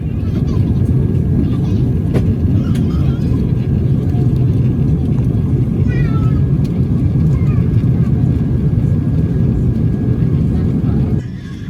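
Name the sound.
Qantas Airbus A380 cabin during descent into Heathrow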